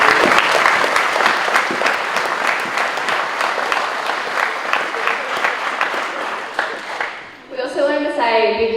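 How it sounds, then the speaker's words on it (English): Audience at the Wauchope High School Year 12 graduation giving a strong round of applause, dense clapping that fades out near the end before a voice starts speaking. "So I'd just like a round of applause for you."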